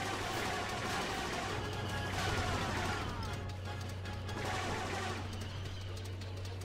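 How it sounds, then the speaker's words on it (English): Continuous crackling gunfire fills a forest battle in the video game Star Wars Battlefront II, with dense overlapping shots over a steady low hum and no pause. "Suppressive fire!"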